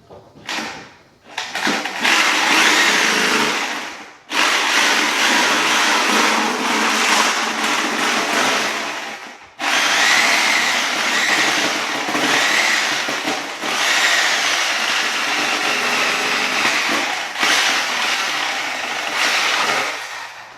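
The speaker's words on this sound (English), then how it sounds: "So I'm using the Sawzall on this." A Sawzall reciprocating saw cuts plumbing pipe during a bathroom plumbing rough-in, making loud, harsh buzzing bursts that run for several seconds each, broken by a few brief pauses.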